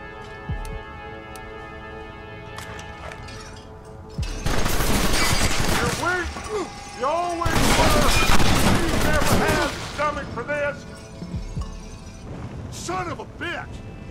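Gunfire in Red Dead Redemption comes as bursts of sharp, cracking shots that ring out amid game sounds and swell into a heavy, chaotic volley in the middle before thinning out.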